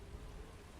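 Rain falls steadily in the video game The First Descendant, a dense, even hiss of drops on surfaces, faint and continuous with no voices.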